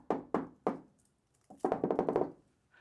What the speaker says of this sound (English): Put a knock on the shed